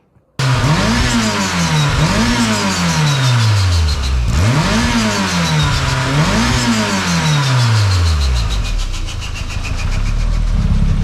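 A turbocharged 1.8T-swapped Toyota MR2 engine revving hard and close, four sharp climbing rev sweeps that each fall away, then a rough, popping idle as the throttle closes, loud and without talk.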